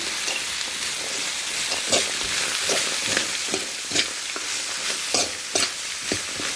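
Avarekai palya with salt and turmeric is stirred in a sizzling pan, Malnad style, a spoon scraping and knocking in an irregular rhythm over a continuous close frying hiss.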